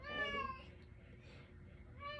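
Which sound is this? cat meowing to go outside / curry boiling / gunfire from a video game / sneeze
cat meowing to go outside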